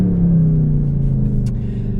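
The naturally aspirated engine of a Mercedes C63 AMG Black Series, with 517 horsepower driving the rear wheels, hums inside the cabin as a loud, steady low drone whose pitch eases slightly downward, with no voices.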